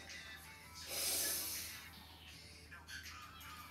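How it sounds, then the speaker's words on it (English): A single deep breath drawn in during a quiet stretching routine, close and soft, swelling into a breathy hiss for about a second before fading, with a faint breathy sound later on and no speech. "you breathe in"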